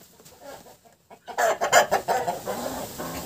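Ducks quack loudly and excitedly close by as a drake mates with a duck, a rapid run of harsh calls after a quieter opening.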